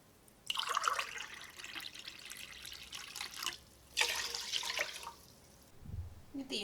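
Water is poured into a cooking pot with rice, heard as two soft splashing pours separated by a short pause, faint and close, ending with a light clunk.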